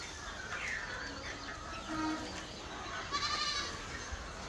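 Goats in an elevated goat shed on a farm bleat a few times, faint and somewhat distant over a steady background hiss.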